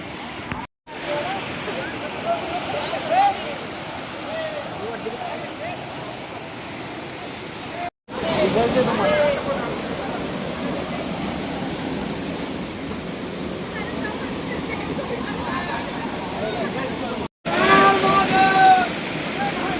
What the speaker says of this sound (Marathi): गाईज इथं खूपच मोठा वॉटरफॉल आहे.